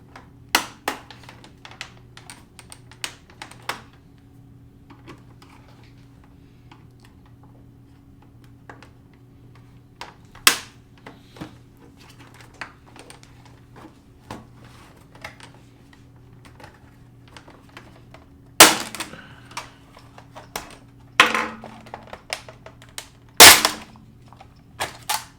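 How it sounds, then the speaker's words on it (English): An Xbox 360 faceplate gets pried loose with a flathead screwdriver and a prying tool, giving scattered light ticks and clicks over a low hum, then a few sharp, louder snaps as clips give way. "we're going to have to sever those first with our flathead and with our prying tool"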